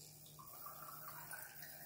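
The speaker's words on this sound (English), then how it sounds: "So I'm using a shot glass. You put water in it." Water poured into a small shot glass as a steady, quiet, trickling stream that runs unbroken for a couple of seconds with no voices.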